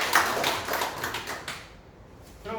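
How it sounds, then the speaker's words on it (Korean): Welcoming applause at a community meeting on urban regeneration funding, with a small group clapping briefly and moderately close for about a second and a half before fading out, then a voice beginning to speak. "격려 겸 환영의 박수 한번 쳐주십시오"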